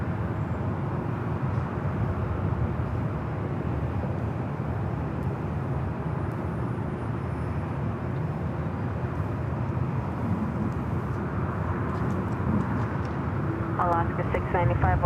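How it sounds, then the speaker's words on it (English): A JetBlue Airbus A321 rolling down runway 24 left at LAX in thick fog, a continuous heavy jet roar holding steady and loud, with faint chirps near the end. "JetBlue A321 heading to Florida, rolling down the 24 left"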